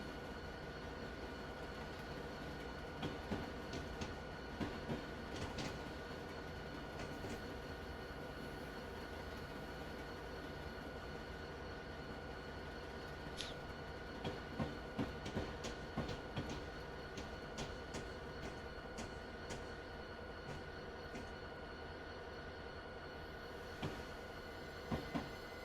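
A train rolls past in the Train Simulator 2020 rail game, with steady low rumble, rhythmic wheel clicks over rail joints and occasional faint squeals, continuous for about twenty-five seconds with no talk.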